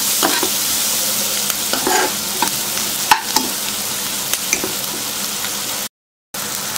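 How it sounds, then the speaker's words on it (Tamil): Onions sautéing in a pan with turmeric powder, a constant close sizzle with scattered spatula scrapes and clicks, one short silent break near the end. "மஞ்சள் பொடி சேர்த்துட்டு கொஞ்சம் வதக்கிக்கோங்க."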